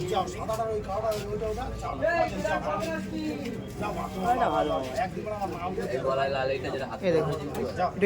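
Pigeons coo at a busy village pigeon market in Golabari, the soft calls mixed into constant crowd chatter and bargaining voices close by.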